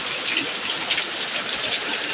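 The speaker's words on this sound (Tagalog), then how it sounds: "Walang tigil ang ulan, oh." Heavy rain falls without pause, a dense steady hiss of drops drumming on surfaces close by, continuous and fairly loud for the whole stretch with no voices.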